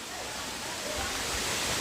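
A roaring waterfall, heard as a steady broadband rush of falling water that fills the whole space, close and constant with no break, and no speech over it.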